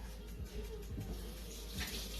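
Running tap water rinses vegetable seeds from a cut vegetable in a kitchen sink, a steady close wash with faint splashing throughout.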